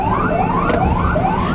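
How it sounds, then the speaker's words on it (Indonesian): A wailing siren from an Indonesian military TNI vehicle convoy on a Jakarta street, loud and close, sweeping up in repeated rising cycles. "Terdengar sirene dari kendaraan TNI itu"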